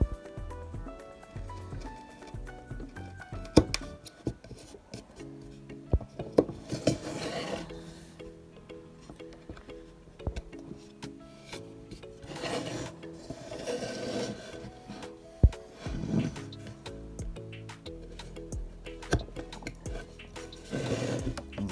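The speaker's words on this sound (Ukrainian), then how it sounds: "Заправляю ножі на шкірі, використовуючи пасту Гоя та інші пасти також." Kitchen knives are stropped on leather with Goi polishing paste, producing repeated scraping and rubbing strokes in uneven bursts, with occasional light clicks, fairly faint and close, with no talk.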